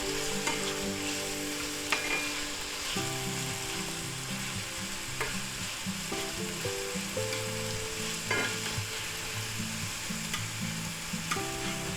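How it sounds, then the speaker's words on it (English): Onions and peppers fry in a pan while being stirred around, producing a constant soft sizzle with occasional scraping clicks of a utensil, steady and close, with no voices over it. "we're going to add our onions and our peppers. I'm going to stir that around a little."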